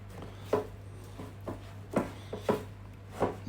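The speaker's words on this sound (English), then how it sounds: "we're just going to add the almond flour. Give it a bit of a mix together" Melted cheese and almond flour stirred together in a bowl, giving a handful of soft, irregular scraping thumps spaced about half a second apart over a steady low hum, with no talking.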